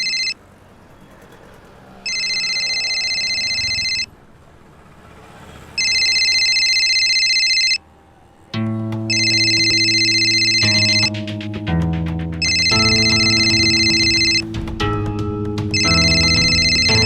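A mobile phone rings in a repeating electronic tone pattern, bursts of about two seconds separated by short gaps, loud and close, with a melodic ringtone joining in the second half.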